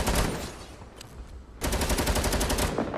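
Rapid automatic gunfire from a Fortnite match crackles in dense bursts, easing briefly before a sustained volley of fast, evenly spaced shots.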